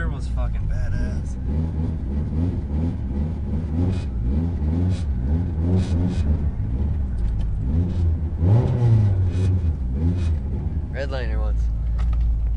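The turbocharged engine of someone's GSX revs up and down in repeated rising and falling pulls, close and loud, with the whoosh of the turbo, while people talk and exclaim over it throughout.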